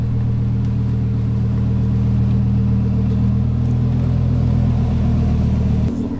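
Lamborghini Huracan engine rumbling loud and close at low speed as the car pulls into a shop, a steady deep drone that drops slightly at the end.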